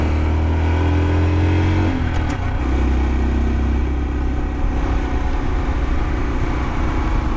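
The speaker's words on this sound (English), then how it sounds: "Gotta do a rev match." A Honda Dax mini moto's small engine humming steadily, then a quick blip of revs for a rev-matched downshift, followed by rougher, lower running that continues close and loud.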